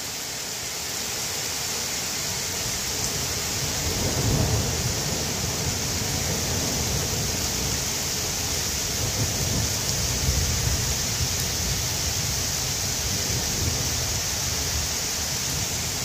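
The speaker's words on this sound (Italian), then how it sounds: "C'è stato un tuono, ma non tanto forte comunque." A broad, steady rush of rain carries a low, rolling rumble of distant thunder that swells and fades, with nobody speaking.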